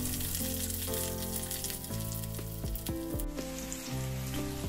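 Capsicum sizzles loudly in hot oil as it is stir-fried in a pan for fried rice, a steady crackling hiss with occasional clinks and scrapes of the utensil.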